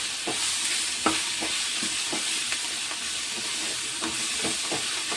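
Coriander frying with masala in a pan for green pea kurma, a steady close sizzle with intermittent scraping and stirring taps from a spoon.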